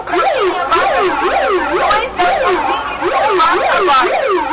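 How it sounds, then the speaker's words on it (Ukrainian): At a protest, several wailing sirens sweep up and down at once, loud and continuous, overlapping in a dense, chaotic chorus. "почали вмикати сирени та кричати"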